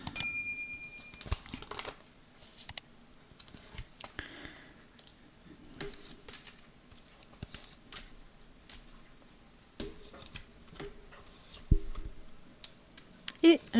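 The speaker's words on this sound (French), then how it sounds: "On coupe et on va poser les cartes." Tarot cards are cut and laid down on a table in a series of soft, irregular clicks and light slaps, close and fairly quiet, with a few brief taps scattered through.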